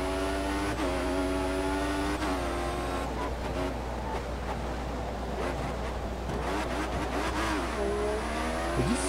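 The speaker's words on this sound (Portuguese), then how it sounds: "o motor fica gritando pra caralho" Formula One race car engine in F1 2014 at Bahrain, screaming at high revs with rising and falling pitch as it accelerates and shifts gears, loud and continuous throughout.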